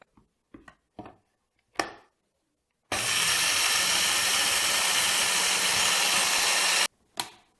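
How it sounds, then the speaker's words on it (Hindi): A kitchen grinder grinds flaxseed and fenugreek seeds in one loud, steady whirring burst of about four seconds, framed by short clicks and knocks of handling before and after. "इन दोनों चीज़ों को हमने ग्राइंडर में डाल के पीस लेना है।"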